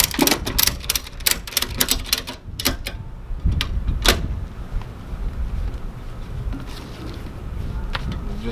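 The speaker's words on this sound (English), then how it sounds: "Gonna ratchet up." A ratchet strap is cranked tight on a side-by-side UTV, giving a burst of quick, rhythmic clicks followed by a few spaced single clicks over faint background noise.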